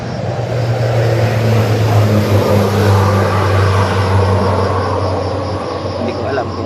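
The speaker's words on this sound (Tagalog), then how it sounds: "May mga eroplano tol na pabalik-balik." Propeller airplanes passing back and forth overhead at an outdoor spot, a steady low droning hum that holds loud and continuous throughout, slowly rising and easing, with background ambience and no clear talk.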